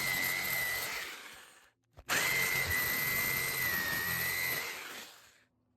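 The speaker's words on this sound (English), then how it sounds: "Now that we've jigsawed out our main piece" A jigsaw cuts out a wooden piece with a loud, buzzing whine, running steadily, pausing briefly, then restarting for several more seconds before stopping.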